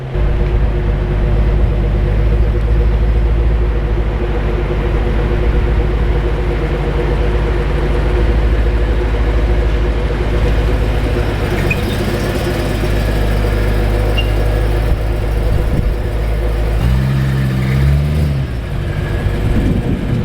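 A BMW E90 M3 fitted with an Akrapovic exhaust rumbles in a steady, deep engine drone, with a brief rise in revs near the end.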